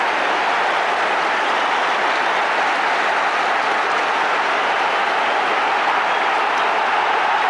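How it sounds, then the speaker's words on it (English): A dense football crowd at a Liverpool v Everton FA Cup fifth-round match applauds across the stadium, a loud, continuous roar of clapping and cheering that holds steady throughout. "Applause all around the ground."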